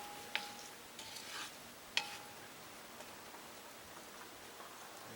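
Potatoes frying in a pan for a Cajun cacciatore camp meal: a faint, even sizzle with soft crackles, broken by a couple of light clinks.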